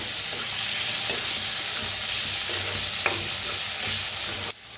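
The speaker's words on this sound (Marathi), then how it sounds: "टोमॅटो आपण छान असं भाजून घेऊया, मिक्स करूया आणि भाजूया।" Tomatoes and onion fry in a pan with a steady, loud sizzle, broken by a few scraping stirs of the spoon and a knock near the end.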